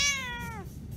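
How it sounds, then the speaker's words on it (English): A cat gives one close, clear meow that starts bright, slides downward in pitch and fades after about half a second, with no voices around it. "Wait for the cat."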